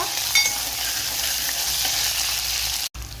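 Thick-cut onions sauté in oil for sambar with a close, even frying hiss and soft scraping of a stirring spoon running throughout, with no voices.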